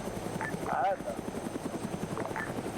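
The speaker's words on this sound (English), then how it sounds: "The helicopter's right over objective 2." A helicopter hovers overhead in Arma 3, a steady rhythmic rotor chop running throughout at moderate distance, with a voice briefly heard over it.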